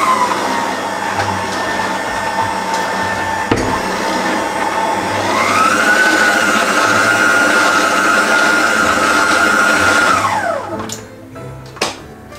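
An electric mixer whirs through red velvet batter tinted with red food colouring, a loud steady motor drone that climbs in pitch partway, holds, then winds down and stops.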